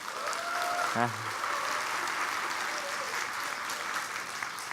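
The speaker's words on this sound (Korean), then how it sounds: "여러분 박수 주실 수 있나요?" An audience at a volunteer Ignite talk event in Korea applauds steadily, a dense, even patter of clapping hands filling the room throughout, with a brief tonal sound near the start.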